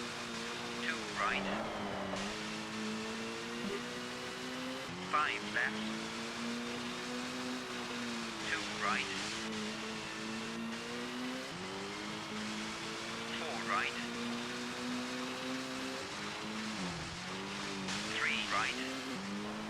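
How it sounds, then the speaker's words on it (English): A four-wheel drive rally car in the Colin McRae Rally PlayStation game is powered around hairpins on the Acropolis Rally stage. The engine revs loudly and continuously, rising and falling through repeated throttle lifts and gear changes. "when we get into the four-wheel drive machines, we can really power the car around some of the hairpins"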